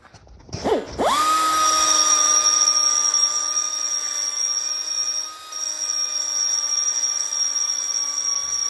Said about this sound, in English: Take it over to the grinder.